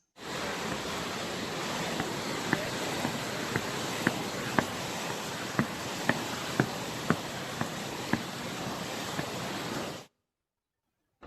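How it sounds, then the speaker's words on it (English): Footsteps thud in a steady rhythm across the wooden Winch Bridge over the River Tees, with the roar of rushing water and Low Force waterfall filling the background throughout. "This recording is of footsteps on the Winch bridge, crossing the River Tees by low force waterfall."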